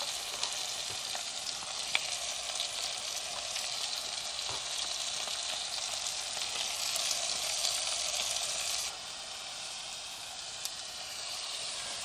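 Steak fried up in a pan with mushrooms, courgette and cauliflower at a campsite, giving a steady, close, broadband sizzle that runs without pause and drops slightly in level near the end, with no talking.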